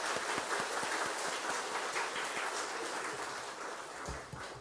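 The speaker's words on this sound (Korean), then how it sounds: "좀 수고했다고 박수 한번 좀 부탁드립니다." Sustained applause from a church congregation, a dense patter of many hands clapping at a steady level that fades slightly toward the end.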